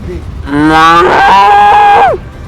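A young schoolboy imitates a cow's moo with his voice, a single drawn-out, rising then sustained lowing call lasting about two seconds, loud and close.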